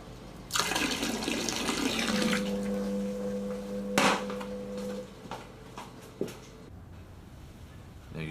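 Tap water runs into a blocked sink, a steady splashing gush starting abruptly and flowing for several seconds with a low droning hum under it, then cutting off, followed by quieter clinks and room sounds.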